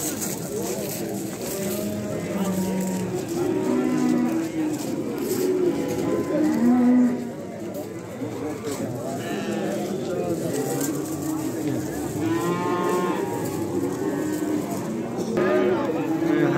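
Cattle lowing amid the bustle of a crowded livestock market, several moos rising over a steady hum of crowd chatter and bargaining voices, with occasional bird calls mixed in.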